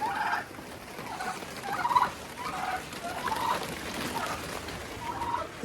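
Turkeys gobble repeatedly in a coop shared with three Marans hens, a series of bubbling calls in a steady rhythm, moderately close and clear.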